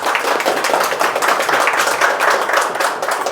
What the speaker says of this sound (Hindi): सभी लोग तालियों से थोड़ा स्वागत कीजिए